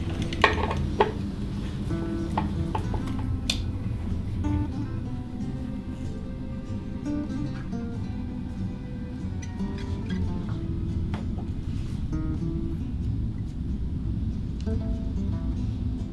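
Steel balls roll continuously inside a brass bowl tilted back and forth by a 100 rpm gear motor, giving a soft, even rushing wash like waves, dotted with faint metallic ticks and clinks.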